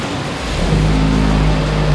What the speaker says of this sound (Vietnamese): Lần đầu tiên anh được nghe tiếng động cơ luôn đó.